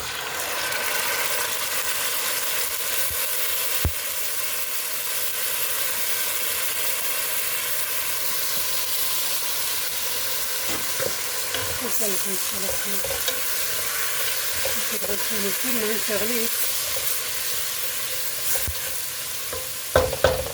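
Rice fries in a pot with a continuous close sizzle while a spoon scrapes and stirs it in short rhythmic bursts, with a few knocks against the pot.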